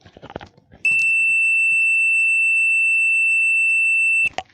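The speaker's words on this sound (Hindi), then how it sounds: "ये देखिए बीप की आवाज़ आ रही है" A multimeter gives a continuity-test beep on a wire, one loud, steady, piercing tone held for about three and a half seconds between brief clicks and handling noise.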